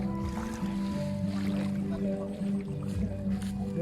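Boat on open reservoir water at Sirindhorn Dam, a steady low engine hum with water wash, moderately faint, with some voices in the background.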